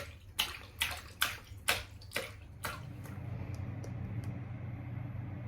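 A pet snapping turtle splashing in water at home, about six sharp, regular splashes up close, then a quieter wash of rippling water.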